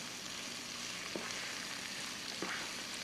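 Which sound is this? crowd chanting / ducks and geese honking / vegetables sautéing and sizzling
vegetables sautéing and sizzling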